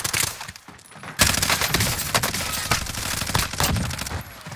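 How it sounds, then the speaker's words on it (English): Sustained light machine gun fire from a Stoner 63 LMG in the Warzone video game, with a brief lull before dense, rapid bursts of close gunshots that continue steadily to the end, with no speech. "Why is this guy shooting at me?"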